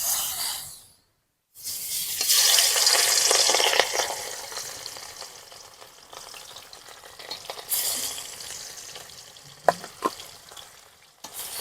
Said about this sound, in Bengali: মাছটা আবার কড়াই দিয়ে দেবো।